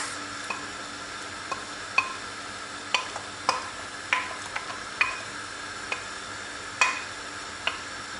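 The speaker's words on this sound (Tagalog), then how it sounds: "Let's mix it once in a while para hindi siya dumikit." Rice cooking in a pot is stirred now and then with a spoon, giving sharp clinks and taps against the pot at irregular intervals over a low steady background hiss, close and fairly clear.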